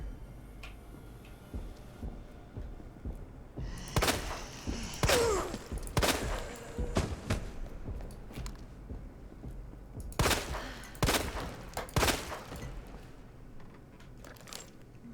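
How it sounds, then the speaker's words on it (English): Gunfire from a revolver in Resident Evil 2 rings out as a series of sharp, separate shots spaced a second or so apart, in two bursts over quiet game ambience with no talking. "Maybe I shouldn't have been using gunfire when I heard the footsteps"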